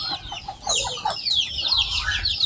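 A chicken clucks repeatedly in a lively, uneven run of short calls, fairly close and loud over a low rumbling background, with no talk.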